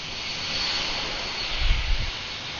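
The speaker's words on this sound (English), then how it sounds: "Here's that 767-400 crossing runway" A Boeing 767-400 jet crossing a runway at Atlanta airport gives off a steady, moderately distant engine roar with a high whine on top, swelling briefly with a low rumble, and no talk.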